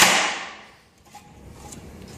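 A plastic bottom cover from an Epson P600 printer snaps off at a score line with one sharp crack, followed by a faint, quiet rustle of handling.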